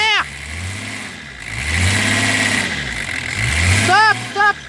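A car engine revs up, holds a sustained rising roar, drops back and revs again, loud and close, with a voice briefly heard between revs.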